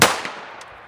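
A .22 Magnum gunshot fired at an ice skull: one sharp, loud broadband crack at the start that decays over about a second, with a faint later tick and no talking.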